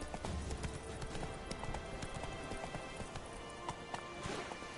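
A horse gallops in the video game Witcher 3, with fast, steady hoofbeats close by throughout and soft ambient noise underneath.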